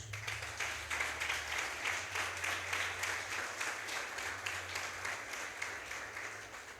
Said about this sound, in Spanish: te dedicamos a ti el mejor de los aplausos